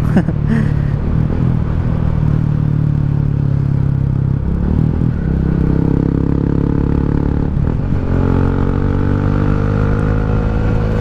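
A white-and-red 2017 Yamaha Sniper 150 motorcycle carries its rider along a provincial road, its engine droning and rising with shifting revs under steady wind and road rumble, loud and close throughout.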